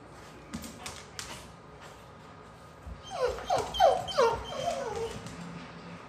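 A dog at a veterinary visit whimpers and yips in a cluster of high, plaintive cries in the second half, after a stretch of quiet room noise with light taps.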